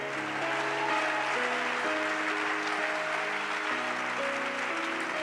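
A church congregation applauding to acclaim the Lord, steady dense clapping throughout with sustained musical tones underneath.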